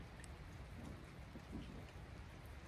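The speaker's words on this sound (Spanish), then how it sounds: "A ver, Cano, vamos a callarnos a ver si se escucha la lluvia." Steady rain falling outdoors in the mountains, a soft continuous hiss of drops with no voices, even and moderately quiet throughout.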